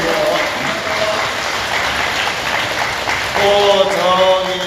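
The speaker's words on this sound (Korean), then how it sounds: "박수 한번 부탁드리고요" An audience at a Buddhist prayer service in a temple hall gives steady applause, dense clapping continuing throughout and swelling slightly near the end, with faint tonal sounds in the background.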